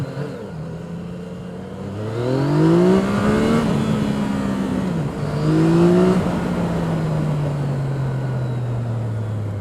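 A Yamaha MT-09 SP motorcycle with a quick shifter accelerating hard into a power wheelie, its engine note climbing through quick upshifts in two rising surges, close and loud over wind noise.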